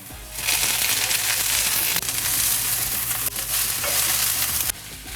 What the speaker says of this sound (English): A little bit of olive oil, the garlic, and let that, it's going to sizzle up there.